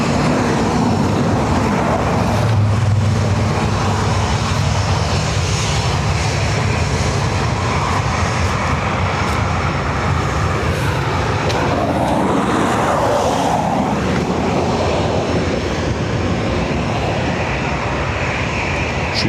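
An Aer Lingus airliner departing Dublin Airport for Rome gives a loud, sustained jet roar that swells and shifts in tone as it passes, steady throughout with no voices.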